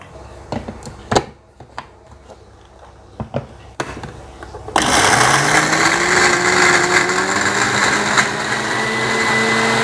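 A kitchen blender grinds shallots, garlic and young galangal into paste, starting abruptly with a loud, steady high-pitched whir after a few scattered clicks and knocks, then running on without pause.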